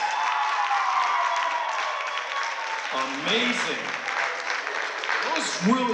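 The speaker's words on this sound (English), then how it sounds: "Now, there it is, give a round of applause." An audience at a stage hypnosis show at St. Anselm College claps for about six seconds in steady, full applause, while a voice speaks briefly over it.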